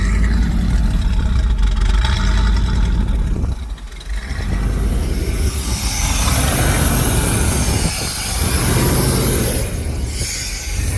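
A 1989 GMC Sierra K2500 pickup, revived after a decade abandoned, runs with a loud, steady engine drone that dips and swells as it surges unevenly, heard close and alone.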